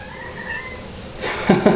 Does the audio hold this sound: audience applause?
no